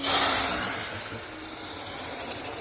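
Water poured into hot semolina halva with pine nuts, giving a loud, broad steam hiss that surges at first and then settles into a steady sizzle.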